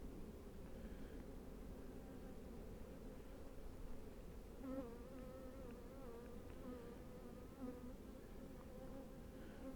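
Honeybees gather at the front of a hive in a constant low droning hum, with the occasional louder buzz of a single bee passing close, and no talk.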